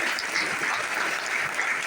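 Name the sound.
audience applause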